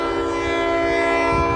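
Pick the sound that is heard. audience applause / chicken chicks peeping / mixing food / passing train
passing train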